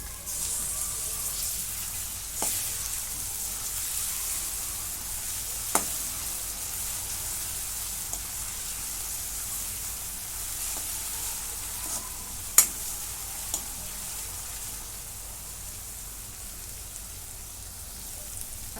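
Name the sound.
roasting chili and garlic paste in a pan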